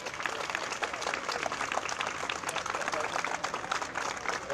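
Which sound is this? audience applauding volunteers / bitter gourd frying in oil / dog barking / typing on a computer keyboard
audience applauding volunteers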